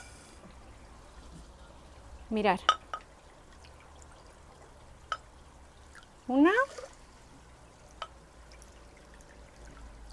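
Water poured over oat flakes in a saucepan, heard as two short pours with a rising, filling tone, each lasting about half a second, with a person speaking around them.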